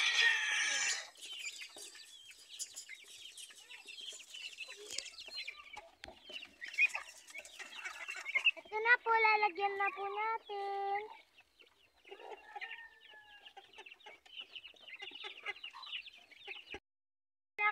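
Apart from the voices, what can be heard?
chickens clucking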